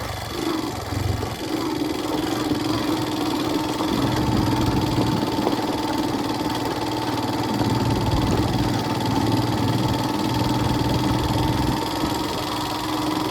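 A motorbike engine idles close by with a steady mechanical hum and a sustained whining tone, holding a constant level for the whole stretch with no speech.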